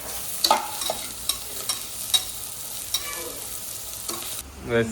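Prawn biryani masala frying in a pan while a spoon scrapes and stirs it, giving steady sizzling under a run of sharp stirring clinks and knocks, close and alone.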